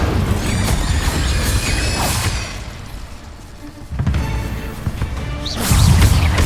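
Incendio fire spell in Hogwarts Legacy, a loud close crackling whoosh and burst of flame mixed with booming magical impacts and thuds in a busy combat scene.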